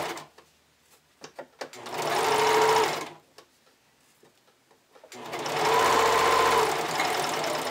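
A domestic sewing machine stitches binding onto a bikini top in two steady bursts of about a second and a half each, with quiet handling noises and fabric rustle in the gaps between runs.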